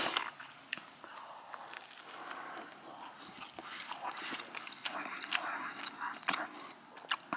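Close, soft biting and chewing of a Subway Reuben sandwich, with moist crunchy mouth sounds and irregular chews, fairly quiet.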